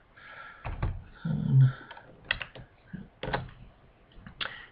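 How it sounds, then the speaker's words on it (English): Password being typed on a computer keyboard, a close series of irregular sharp key clicks with uneven pauses between bursts, including one heavier thump. "And now I'm typing in the password."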